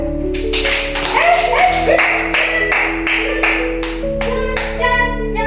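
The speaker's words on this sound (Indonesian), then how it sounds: "Coba tepuk tangan." Hands clap roughly ten times in a fairly even rhythm, sharp and close, over a soft musical background during a children's storytelling session.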